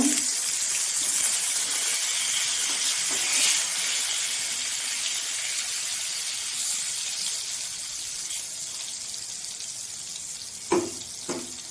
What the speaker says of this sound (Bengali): বেগুনগুলো আমি ভাজতে দিয়েছি একদিকটা উল্টিয়ে দেবো